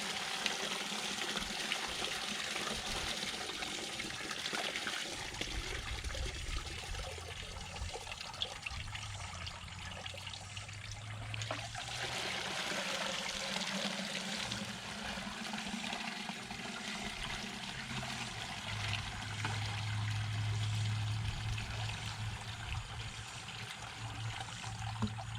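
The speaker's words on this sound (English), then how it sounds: "So we're just going to try to pour off as much of that as we can." Liquid comfrey tea fertilizer is poured off from a container, making a continuous splashing, gurgling flow that stays fairly quiet and steady, with heavier low sloshing midway and near the end.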